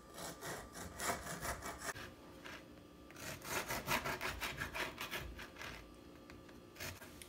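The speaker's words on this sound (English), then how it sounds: "I'm going to take a serrated knife and I'm going to cut them in little logs, like little strips." A serrated knife saws back and forth through baked biscotti logs on a board, cutting them into strips with a close, continuous rhythmic rasping and crunching, no voices.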